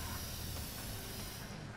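Steady hiss of a spray can in inFAMOUS Second Son, one continuous broad spray held close and fairly loud before it cuts off abruptly, no voices over it.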